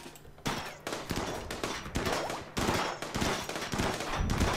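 Rapid gunfire rattles in the colony-building video game RimWorld, dense overlapping bursts of shots fired continuously at close range, loud and unbroken with no talk over it.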